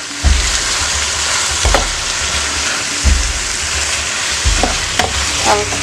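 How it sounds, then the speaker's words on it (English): Biryani masala frying in a pan for boneless chicken biryani gives a loud, steady sizzle, broken every second or so by scraping stirs and soft knocks of a spoon against the pan. "we will try to cook the masala in there"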